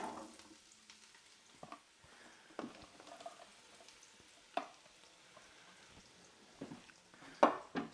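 Onions, leek, garlic, celery and carrot sautéing in hot oil in a Ninja Foodi: a quiet steady sizzle broken by scattered clicks and scrapes of stirring, with a sharper knock near the end.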